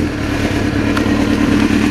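A 1999 Suzuki GSX-R600 motorcycle engine runs steadily at a low burbling idle, close by and loud, with an even, continuous tone throughout.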